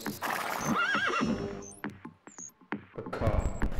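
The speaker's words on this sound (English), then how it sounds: "A horse." A horse gives a loud, wavering whinny, followed by a few sharp, separate hoof clip-clops, fairly close, with no talk.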